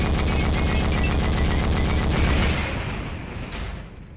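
A .50 cal machine gun mounted on a transport vehicle in the game Forgotten Hope 2 fires a loud, rapid, steady burst for about two and a half seconds, and the sound then fades into an echoing tail.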